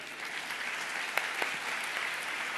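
An audience at a conference applauds the speaker, steady close clapping from many hands that continues without a break, with a few sharper claps standing out.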